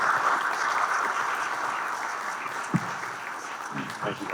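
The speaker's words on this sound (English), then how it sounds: "a big round of applause for our panelists" Applause from a conference audience for panelists at a data-center discussion, clapping that starts strong and gradually thins out, with a few louder knocks and voices beginning near the end.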